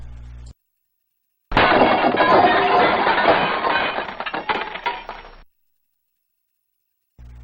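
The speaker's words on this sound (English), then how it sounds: "let's break a glass bottle with a hammer" A glass bottle broken with a hammer, a loud sustained crash of shattering and tinkling fragments lasting several seconds before cutting to silence.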